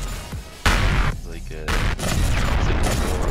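Heavy booming shots from a mounted railgun in the space survival game Empyrion Galactic Survival, Reforged Eden scenario, with two loud impacts landing in quick succession amid dense rumbling, voices faintly present underneath.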